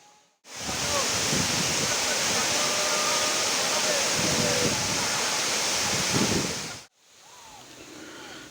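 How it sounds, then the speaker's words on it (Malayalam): A broad, constant rush of cascading water at Pattathipara Waterfalls fills most of the clip, loud and close, then cuts out abruptly near the end, with faint wind. "ഇതാണ് കേട്ടോ ആ മനോഹരമായിട്ടുള്ള വെള്ളച്ചാട്ടം."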